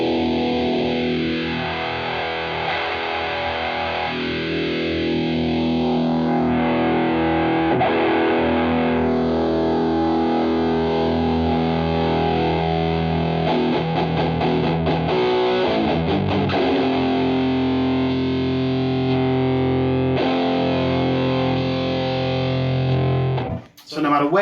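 Electric guitar through a Boss Metal Zone Waza MT-2w distortion pedal with the mids cut, playing thick, sustained distorted chords loudly and continuously before stopping abruptly at the end.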